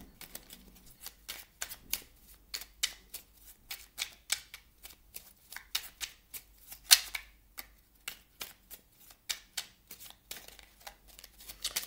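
A numerology oracle card deck is shuffled by hand in quick, repeated riffling bursts, close and fairly quiet, with short pauses between runs and no talking.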